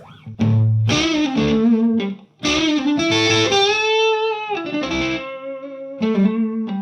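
Overdriven electric guitar through a Chase Bliss Automatone amp-modeling pedal in EQ2 with FET gain on, loud chords and sustained notes, a short pause between phrases, bright, saturated tone.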